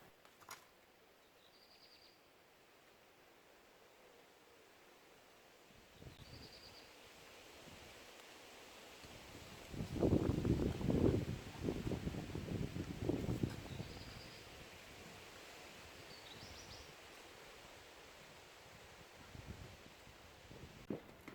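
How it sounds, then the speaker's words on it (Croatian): Strong wind roars steadily outdoors, with a heavy gust swelling loudly in the middle before easing back to a constant rush. "Počeo je puhati jači vjetar, moglo bi biti kiše"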